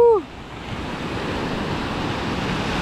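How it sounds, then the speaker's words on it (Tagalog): Strong sea surf rolls in as a steady, loud wash of broadband noise with wind buffeting the microphone, following a brief shout at the very start. "Lakas ng mga alon."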